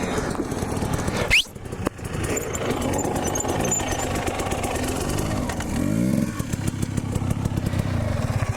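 A Honda CR250R motorcycle engine runs steadily with a rough, loud two-stroke drone, and a sharp thump breaks in partway through before a brief descending whine near the end as the motor seizes.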